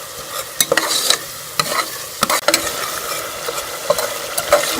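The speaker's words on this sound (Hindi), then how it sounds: "6 से 7 मिनट हम मसाले को अच्छी तरह से भून लेंगे।" Spices for aloo mongray sabzi are stir-fried in a pan, with repeated spatula scrapes and clicks over a continuous close sizzle and no voices.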